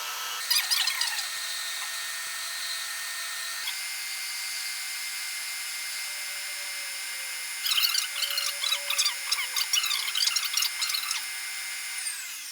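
A milling machine cuts a metal block, a continuous high-pitched machining whine with a sharper, stuttering chatter of the cutter biting the metal in the latter part.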